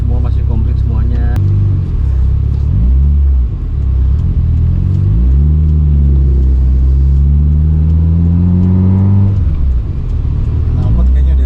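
A 1990 Suzuki Amenity two-door hatchback's engine revs repeatedly through a replaced sport exhaust, loud and close, with the pitch climbing and falling in several rising sweeps over a deep rumble.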